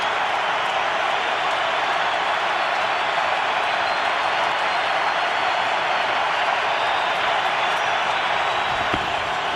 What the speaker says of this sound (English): Big crowd. Listen to the crowd there.